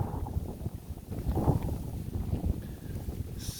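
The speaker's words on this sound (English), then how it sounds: "it's cold, there's a biting wind" Cold, gusty wind buffets the microphone in low rumbling bursts beside Lough Naglare lake in Cavan, Ireland, rising and falling irregularly with no voices.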